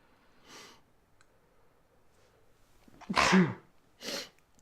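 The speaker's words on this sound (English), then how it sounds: "so that was a sneeze" A single loud sneeze close to the microphone, preceded by a sharp sniff and followed by another quick breathy exhale in a quiet room.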